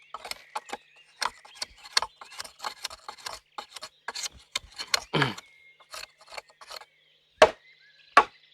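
Irregular sharp scraping and chipping strikes against bamboo, in short uneven bursts with pauses between, close by and fairly loud.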